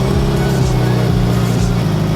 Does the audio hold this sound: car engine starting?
yes